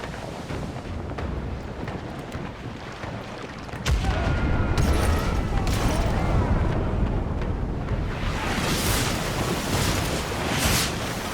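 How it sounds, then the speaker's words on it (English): Ship cannons in a video game fire a port broadside, a loud volley booming in a rapid, rolling series of blasts, followed by rumbling and crackling. "let's fire the port cannons."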